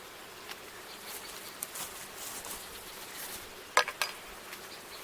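Honeybees from a newly arrived package buzz around their caged queen during installation, a soft steady hum close by with a few brief louder buzzes and taps near the end.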